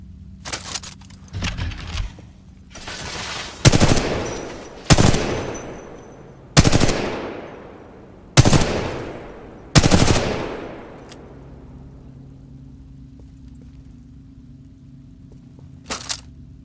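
Machine gun fire in Titanfall 2 comes as about six evenly spaced, sharp, loud shots with ringing decay after an initial ragged burst of fire, then a low ambient hum and a final faint shot.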